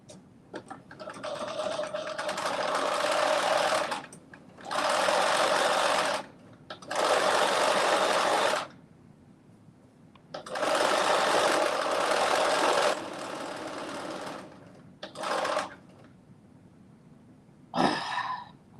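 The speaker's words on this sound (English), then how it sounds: "we're going to do 5/8 of an inch basting stitch" A domestic sewing machine runs a 5/8 inch basting stitch in bursts, loud close whirring runs of a few seconds each separated by short pauses, about six runs in all, with a brief clatter at the end.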